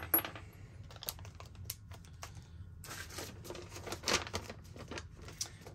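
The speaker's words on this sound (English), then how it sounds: "Let's get these screws out." Screws being taken out of a Wilcox flip mount, with small metallic clicks, taps and light rattles in an irregular patter, close and quiet, with no voices.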